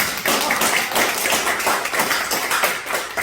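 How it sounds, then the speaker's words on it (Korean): Church congregation applauding during a revival service, a steady, dense patter of many hands clapping that fills the room throughout. "우리 교회 너무 잘해서 박수 주세요."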